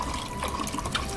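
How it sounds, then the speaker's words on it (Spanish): Water runs steadily out of a tap or spout, a continuous splashing, trickling flow heard close up with small drips and gurgles throughout. "¡Está saliendo agua!"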